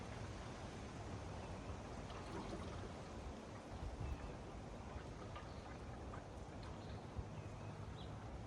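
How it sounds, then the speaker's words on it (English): Motorcraft antifreeze is poured from a jug into a car's coolant system during a pre-winter coolant service, a steady faint gurgling trickle that runs without pause and with no talk over it. "So now we're gonna start feeding her some of that good old Motorcraft antifreeze."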